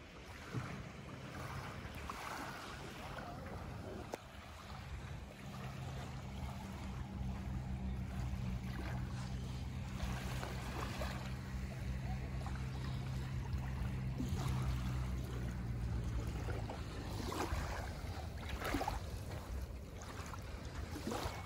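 Gentle sea water laps at a sandy beach in Port de Pollença, Mallorca, a soft continuous wash with faint splashes, mixed with wind and a low motor-like drone partway through.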